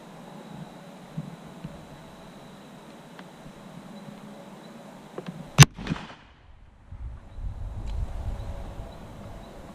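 A single sharp .44 Magnum gunshot from a Ruger Super Blackhawk Hunter, fired with a gas-checked tumble-lubed bullet at a target, cracks once mid-clip amid quiet outdoor ambience.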